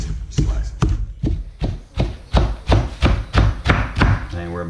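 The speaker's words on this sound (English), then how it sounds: "Chop it like that." A knife chops through bundled collard-style greens on a board in a steady rhythm of about a dozen firm, close thumps with a brief pause in the middle, with no talking.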